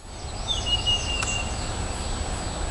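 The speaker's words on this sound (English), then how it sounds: "I just thought I'd come out here and listen to the birds." Birds sing outdoors on a morning in a flower garden, a few thin whistled calls rising and falling at moderate distance over steady low background hum, fading out partway through.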